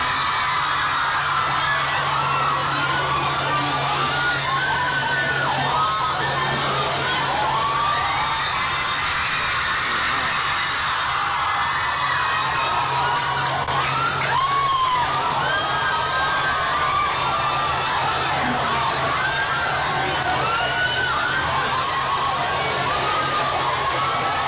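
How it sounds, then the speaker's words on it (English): A large crowd of children screams and shouts continuously, with cheering and whoops rising and falling in a dense, loud roar that never lets up. "the screams from those kids is very electrifying"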